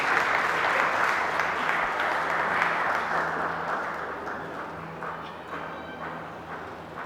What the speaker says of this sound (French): Applaudissez très fort.